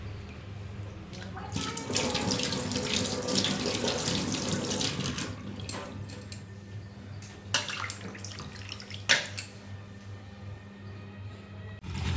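Bata fish being washed under a running kitchen tap: water gushes and splashes steadily, with handling noises and brief louder splashes, close by and fairly quiet.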